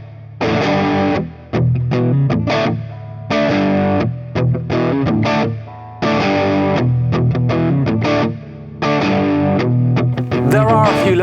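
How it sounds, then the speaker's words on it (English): Overdriven tones from a rare Gibson electric guitar, played as loud, sustained chord strums and note bursts in several phrases separated by short gaps, with a slightly chorused, distorted character and no talking. "You can get really nice bloomy, overdriven tones, nice spanky clean tones."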